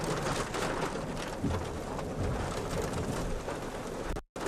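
Rain pours down during a storm chase in the Texas Panhandle, a close, steady hiss of drops on surfaces with a few faint bird calls, cut briefly near the end.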